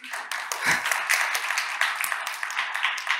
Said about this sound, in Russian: Давайте похлопаем друг другу